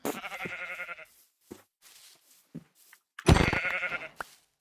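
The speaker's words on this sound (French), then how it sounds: "Et il y a des moutons." Sheep in the Minecraft survival game bleat in several short, separate calls, with a louder, longer bleat near the end and quiet gaps between.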